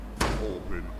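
A monster bangs on a door in the video game Garten of Banban, landing as a single heavy, booming thud with a short rumbling tail, loud and close, with no speech over it.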